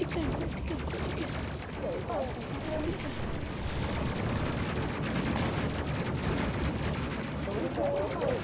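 Rapid bursts of gunfire from the Space Crew video game, dense and continuous over a loud layered soundtrack of explosions and effects, filling the whole stretch.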